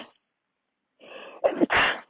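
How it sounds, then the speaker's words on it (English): A single sneeze from a person with allergies, a short breathy intake followed by two sharp bursts, close and alone. "excuse me, I just sneezed."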